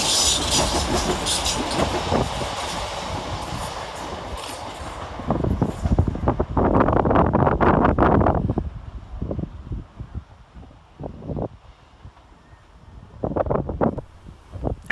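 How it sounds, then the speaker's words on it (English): Class 357 electric units 357 318 and 357 209 pass on the fast line at Bethnal Green station in London, a loud rumbling rush with rail clatter that fades away, broken by gusts of wind noise. "Next train over on the fast section is 357 318 and 357 209."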